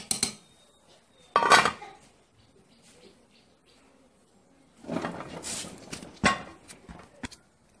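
A spoon clatters against a pot as waterleaf jollof rice is dished out, with a few sharp metallic scrapes and knocks separated by quiet gaps.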